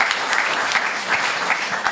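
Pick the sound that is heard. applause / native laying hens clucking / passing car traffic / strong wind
applause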